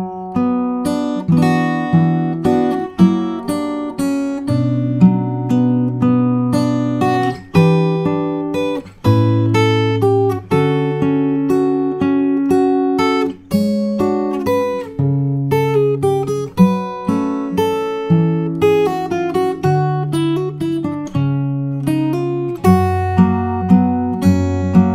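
Fingerstyle acoustic guitar playing the second part of the A section of the theme from Howl's Moving Castle, a steady flowing melody over plucked bass notes, close and clear with no speech.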